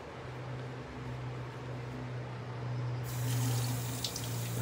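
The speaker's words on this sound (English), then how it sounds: "Rinse off my hands." A tap runs steadily into a sink while hands are rinsed before shaving with a lathering brush, a constant watery hiss that swells louder and brighter partway through, with no talking.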